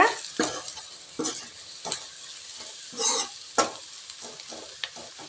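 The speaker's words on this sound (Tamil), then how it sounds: "இந்த மசாலா எண்ணெயிலேயே ஒரு நிமிஷத்துக்கு வெங்காயத்துக்கூட வதங்கட்டுங்க." Onions sauté in masala oil for a chicken liver sukka, giving a steady sizzle broken by repeated scraping strokes of a spoon against the pan at close range, with no talking.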